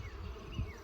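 Honey bees in a hive in early March hum as a steady, low drone, close and continuous, with no voices over it.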